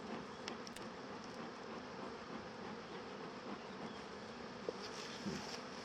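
Bees buzzing in a dense, continuous hum around beehive supers during a hive inspection, close and steady with occasional sharper passes near the listener.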